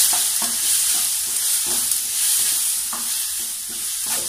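A spiced tomato mixture with red chilli is stirred in a hot pan, a close, constant sizzle with the spoon scraping through it every second or so, and no voice.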